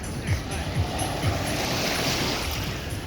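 Ocean surf rolls onto a busy beach at Corralejo, Fuerteventura, a steady broadband wash of breaking waves with low rumbling thumps and some wind buffeting, heard continuously throughout.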